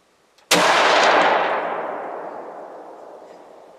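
A single loud rifle gunshot fired at a button buck deer while hunting outdoors, a sharp crack followed by a long rolling echo that fades over several seconds.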